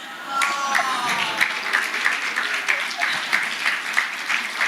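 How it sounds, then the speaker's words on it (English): Audience at a health insurance conversation event applauds a small child called to the podium, steady clapping throughout with a few voices and cheers mixed in. "Let's clap for Princess Wanda."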